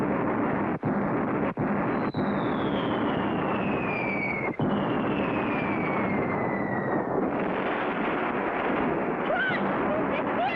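Cartoon cannon fire from a pirate ship high above: a few sharp blasts at irregular intervals, with long descending whistles of flying shot over a constant rumbling background.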